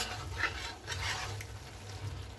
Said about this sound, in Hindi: इस स्टेज में इसको और अच्छे से गर्म आँच में पूरा पका के पूरा मसाले को सुखा लेंगे